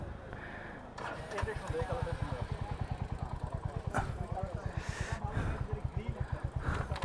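A Royal Enfield Hunter 350 single-cylinder 350cc motorcycle runs nearby with a rapid, even thumping beat, with bursts of wind noise and a voice now and then.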